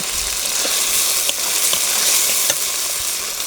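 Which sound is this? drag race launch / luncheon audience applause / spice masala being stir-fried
spice masala being stir-fried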